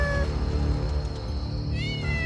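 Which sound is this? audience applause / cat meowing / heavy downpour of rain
cat meowing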